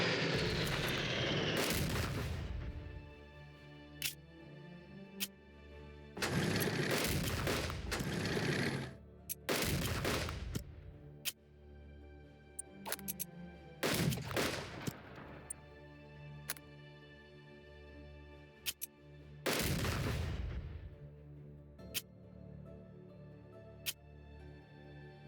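Bombing runs and gunfire in the WWII strategy game Unity of Command 2 near Kharkov: repeated heavy booms and explosion bursts separated by gaps, sharp cracks in between.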